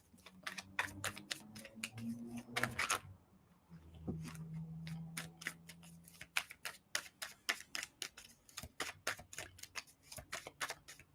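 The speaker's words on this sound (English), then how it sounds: "That card was flipped in there, but I'm still shuffling." Tarot cards being shuffled, a quick train of crisp clicking riffles close by with short pauses between bursts, alone without talk.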